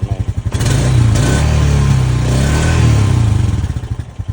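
Close engine of a 2025 Honda Rancher 420 ATV idling with a loping throb, then revved up and held twice before settling back, loud and alone.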